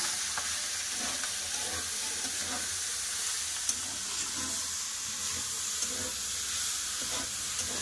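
Potatoes and saag greens sizzle and hiss steadily in a hot pan, with occasional soft stirring scrapes; fairly quiet, continuous frying with no talk.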